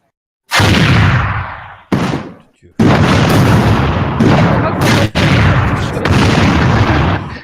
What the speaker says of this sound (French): Et là, vous entendez une explosion.